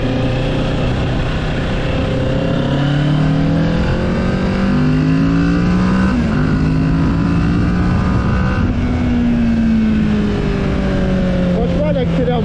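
A Kawasaki Z650 motorcycle accelerates hard through several gears, its engine note climbing and dropping with each shift, loud and close throughout as a rider talks over it.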